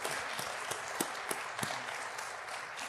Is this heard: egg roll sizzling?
no